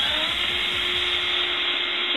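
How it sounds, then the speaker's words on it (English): A countersink drill bit bores into wood with a high, steady power-drill whine and a rapid grinding chatter underneath, close and continuous throughout. "See how it goes in like a normal drill, and then it makes room with blades for the top of the bit, or the screw."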